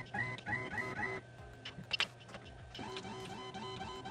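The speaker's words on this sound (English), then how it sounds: "To install the machinist dial indicator, you want to first move the nozzle using the jog mode." A da Vinci 1.0 3D printer jogs its nozzle, giving several short, close whirring stepper-motor runs with brief pauses and a tonal buzz, mechanical noise alone without speech.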